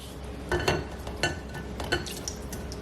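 Fried potatoes are strained from hot oil in a pan. There are scattered metallic clinks and scrapes of utensils against cookware, a few sharper knocks, and no talking.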